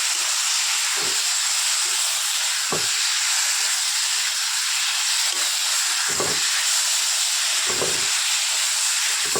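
Mustard seeds and chilli temper in hot oil for a sour fish dish, producing a loud, continuous hiss close to the pan, with a few irregular low thumps as it is stirred.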